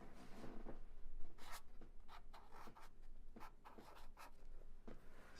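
Music notation is written by hand close up, with a pen or pencil scratching in a continuous soft scrawl broken by quick strokes and taps.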